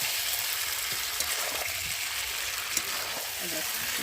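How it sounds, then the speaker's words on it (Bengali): Tomato sautés in a pan with chicken and potato, a dense continuous sizzle with occasional soft stirring knocks, close and fairly steady throughout the short stretch. "আর এখন আমি ওই জন্যে টমেটোটা দেখো চিকেনের সাথে আলুর সাথে এখন ভালোভাবে কষিয়ে নেব।"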